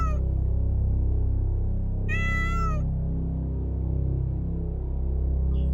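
One short meow from a black cat, near and distinct, stands out once over a constant low droning background, with the rest of the stretch quiet apart from that hum.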